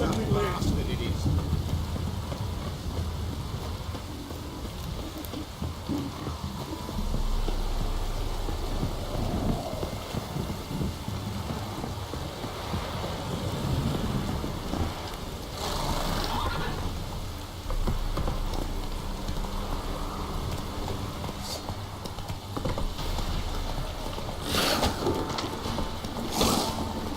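Heavy rain pours down in The Witcher 3, a steady hiss of falling water with gusting wind, continuous and fairly loud, with occasional brief voices.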